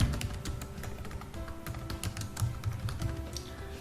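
Steady typing on a computer keyboard, a quick run of close, crisp key taps with a low background hum and no talking.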